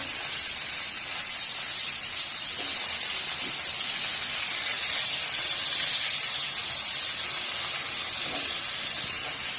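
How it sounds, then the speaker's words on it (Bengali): Onions, garlic and fish frying in a pan in a village kitchen, a continuous loud sizzling hiss that holds steady and close for the whole stretch without talk. "পেঁয়াজ আর রসুন আর কাঁচা ফল ভাজে নিচ্ছি।"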